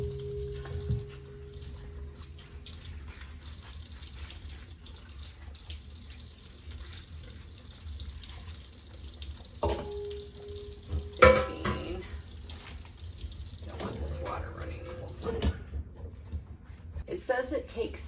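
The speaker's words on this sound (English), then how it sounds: "So I just scrub really well with this, and it practically peels the carrot for me" Carrots are scrubbed under running water at a sink. The tap's flow and scrubbing rubs come and go, and the sounds grow busier toward the end.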